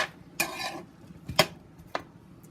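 Onions cook in a pan with a faint sizzle while a utensil scrapes and clinks against it in three short stirring strokes, quiet and close with no voices.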